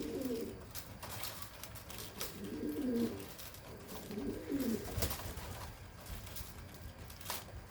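Pigeons coo softly in several short bursts, with a few faint clicks and rustles between calls.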